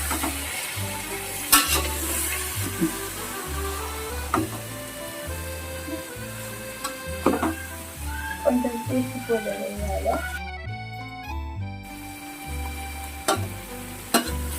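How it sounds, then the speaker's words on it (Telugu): Pieces of village country chicken hiss and sizzle in hot oil as a spoon scrapes and stirs them, giving repeated close clanks and scrapes over steady frying noise while a voice talks throughout. "మనం కట్ చేసి పెట్టుకున్న నాటుకోడి ముక్కలు వేసి నూనెలో దింపలు చేసుకోవాలి ఇలా వేసి నూనెలో కలిసేలా కలుపుకోవాలి"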